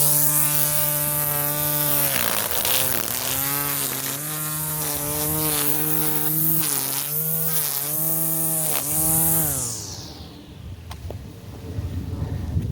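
A Hart 40V cordless string trimmer runs steadily at close range with a high, harmonic whine that dips and recovers as it edges, then winds down and cuts off near the end, leaving quiet background.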